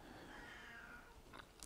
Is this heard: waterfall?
no